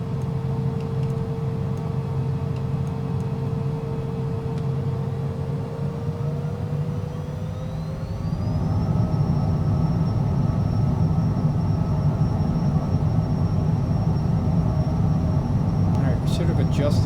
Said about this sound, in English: Taxi to the runway and take off.